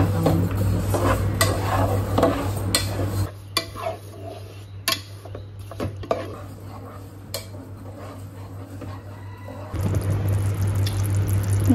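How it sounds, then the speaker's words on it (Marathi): Melting jaggery is stirred in a cooking pan while making modak: a spoon scrapes and clinks against the metal steadily and up close over a constant sizzling hiss. "गुळ टाकलाय मी याच्यात. त्याला मिक्स करून मस्त एकदम मेल्ट होऊ दे."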